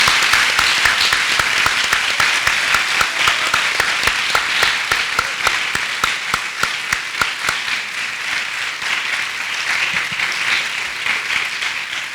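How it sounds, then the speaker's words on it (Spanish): Audience applauds round-table panelists at the close of a discussion on whether evolution needs a new theory, sustained clapping for about twelve seconds, fairly dense at first and thinning slightly toward the end, with sharp individual claps standing out. "pues un aplauso a los ponentes."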